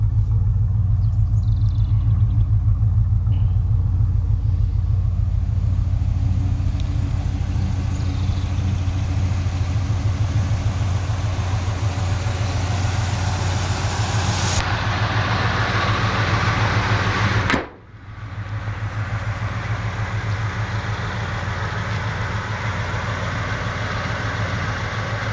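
A 1970 Chevelle SS 454 V8 with a mild cam idles steadily with a deep, loud, even rumble that runs unbroken for most of the stretch, dipping briefly once before settling back.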